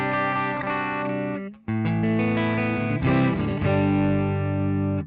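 Electric guitar played through the Twin Reverb Snaptone amp model on a Valeton GP-5, sustained chords and notes ringing with a brief pause, then a strummed chord change, bright and close.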